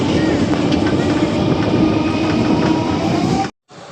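A train travelling to Rampurhat, with a steady rumble and rattle of railroad cars heard from inside the carriage, loud and continuous, then a brief cut near the end.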